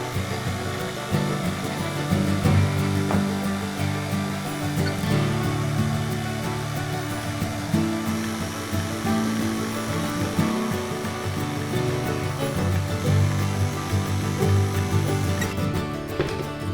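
An electric mixer works a dough of all-purpose flour and raisins with a steady, loud whirring drone that runs without a break for the whole stretch.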